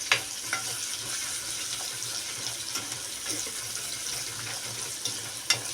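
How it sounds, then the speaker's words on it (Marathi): Garam masala, coriander powder, red chili powder and turmeric fry in hot oil in a pan for an elephant foot yam curry, giving a steady close sizzle with a few faint clinks and no talking. "गरम मसाला धनीपूड घरगुती मसाला हे तेलात आपण छान परतून घेणार आहोत"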